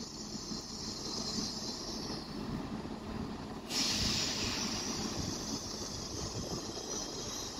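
A Freightliner freight train races through Doncaster Station, a continuous rumbling roar of wagons with a high hiss that grows brighter midway, steady and moderately distant.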